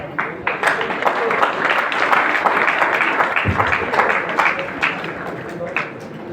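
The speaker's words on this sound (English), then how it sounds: "Let's have a round of applause." Seminar audience claps for speakers being felicitated on stage at a study abroad event, a moderate continuous patter of many hands with some voices mixed in, fairly close and steady.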